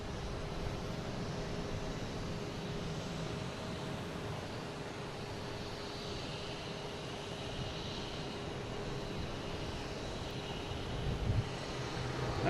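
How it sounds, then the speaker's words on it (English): A United Boeing 737-900 airliner takes off at Boston Logan, heard as a faint, distant, steady broadband roar with wind noise and a thin tonal whine, sustained and without voices. "United taking off heading to Houston"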